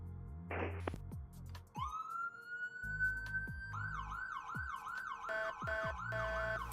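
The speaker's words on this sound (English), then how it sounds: "So this is a siren." A vehicle siren cycles through several tones: a rising wail, then fast yelping sweeps, loud and close with no talking.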